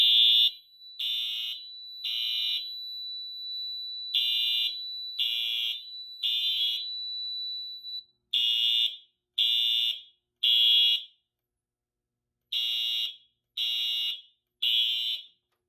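A Notifier System 5000 fire alarm panel sounds a loud electronic alarm tone in short, regular bursts, three pulses at a time with brief gaps between groups, alone without speech.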